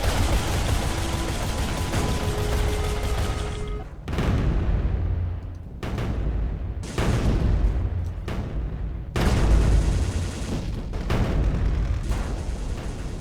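Heavy tank cannon fire in the strategy game Mindustry, a series of loud booming blasts in rapid bursts with short gaps between volleys, close and continuous with rumbling low end.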